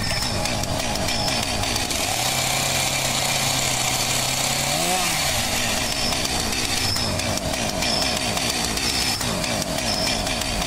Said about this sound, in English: Oh, a chainsaw.